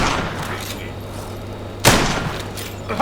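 Gunfire in the video game Block N Load, a sharp loud burst of shots followed by decaying echoes, with more faint shots around it.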